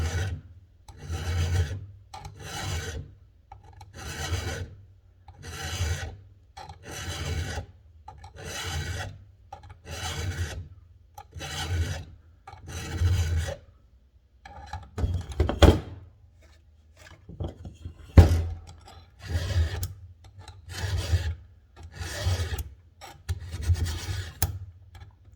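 A hand file rasps over a saw chain during sharpening, about a dozen regular back-and-forth strokes in a steady rhythm, close and distinct, with a few knocks and handling sounds in the latter part.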